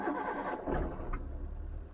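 A 2010 Maruti WagonR VXI engine, just switched over to gas and running, gives a steady low engine hum with a brief rise near the start, close by and alone.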